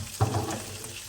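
Vegetables and chopped parsley sizzling in a hot pan as they are stirred, a brief scrape and hiss at the start settling into a steady, moderate crackle.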